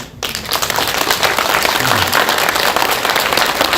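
Audience applause at a city official's public report meeting in Yakutsk, a dense, loud, sustained clapping from a crowd that starts abruptly and continues evenly throughout.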